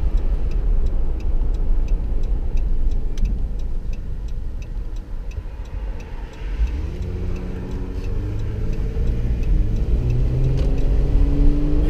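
A Hemi-powered car idles with a deep rumble, then its engine revs up in rising, layered surges in the second half, loud and close, with a faint regular ticking running underneath.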